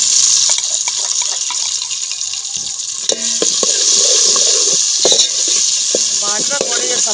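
Water is poured into browned fried onions and masala in a pot while cooking mutton pulao, a loud, steady, close hiss and sizzle with a few faint clinks.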